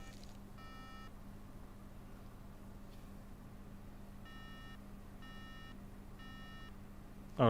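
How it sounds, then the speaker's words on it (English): Faint electronic beeps from a MacBook Air mainboard sound in short repeated groups over a steady low hum, with quiet gaps between the patterns. "Alright, okay, so it's beeping."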